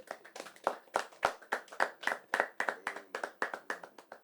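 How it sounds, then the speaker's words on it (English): A small studio group claps for a guest rapper, with distinct, fairly regular hand claps in a quick rhythm and individual claps clearly separable, close and fairly quiet. "can you give him a round of applause?"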